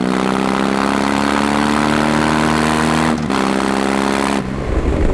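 BMW R18 Transcontinental motorcycle engine running steadily while riding, a loud, continuous droning hum with a brief dip partway through and a change in tone near the end.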